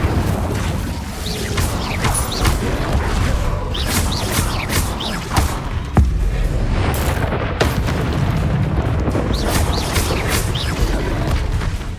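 Incendio fire spell cast repeatedly in Hogwarts Legacy, loud booming bursts and whooshing blasts over a dense, continuous wash of game effects, with several sharp hits standing out.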